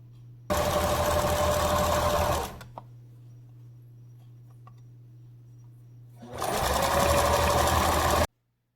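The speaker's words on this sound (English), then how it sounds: "I'm just going to straighten that out and stitch this all down flat." A sewing machine stitches a homemade fabric face mask flat, running in two loud steady bursts with a quiet pause between them and a low hum underneath.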